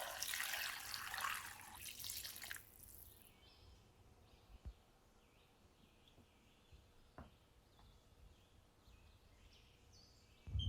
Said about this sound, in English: Once soaked, give them a thorough wash.